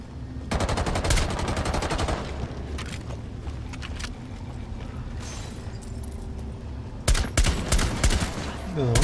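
Dense bursts of gunfire in Rainbow Six Siege Outbreak, rapid automatic shots rattling loudly with a few pauses, then a heavier volley near the end.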